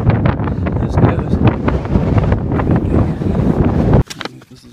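Strong wind blows across the summit of a volcano and buffets the microphone in loud, gusty rumbling, then drops sharply near the end to a quieter, calmer hiss.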